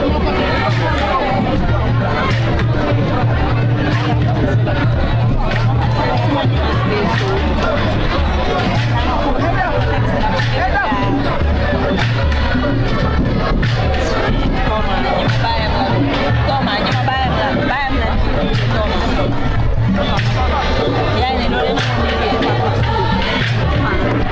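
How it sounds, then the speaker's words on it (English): Manga 11 supporters cheering loudly at a Serrekunda West Nawettan football match against Real De Jeshwang, a continuous dense roar of chanting and shouting voices with rhythmic drumming underneath, loud and unbroken. "That's the supporters of Manga 11 who are currently on top of their voices, cheering their boys to glory"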